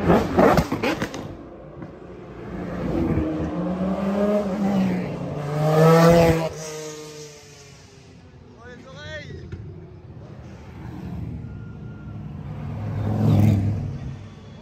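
GT1 race cars, including a Maserati MC12, roar past one after another in a parade through central Spa, engines rising and fading as they pass close by, with a crowd chattering over the noise.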